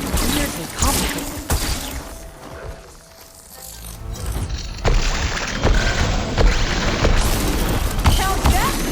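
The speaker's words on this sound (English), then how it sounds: "Hell, that's an explosion!" Explosions boom in Horizon Forbidden West amid a busy combat mix, with several deep thuds and blasts recurring across the span, loud and close, with game voices talking over the action.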